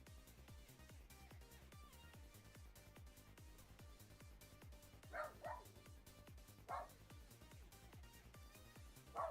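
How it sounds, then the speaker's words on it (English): A dog barks several times in short yips and bursts, heard in the background under steady rhythmic game music. "my dog's making a lot of noise. He barks at everything he sees."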